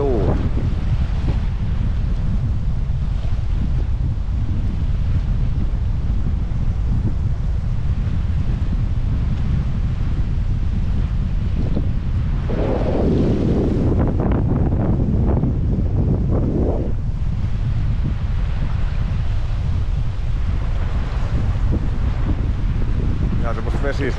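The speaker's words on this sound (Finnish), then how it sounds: "Kyllä nimittäin tuuli." Strong wind roars across a wilderness lake in Vätsäri with whitecaps on the water, buffeting the microphone in a continuous loud rumble that surges for a few seconds midway.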